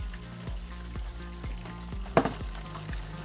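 Hot oil sizzles in a pot of spicy chicken with a steady frying hiss. A rhythmic ticking pulse runs underneath, and a brief clatter sounds partway through. There is no talking.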